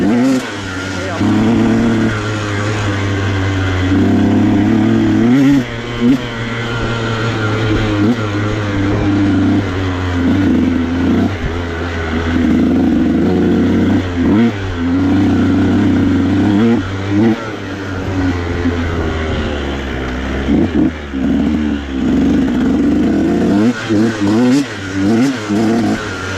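A 150 SX dirt bike engine drones steadily while riding over small hills at a mines and meadows trail area, rising and falling as the throttle changes, loud and continuous with a voice talking over it.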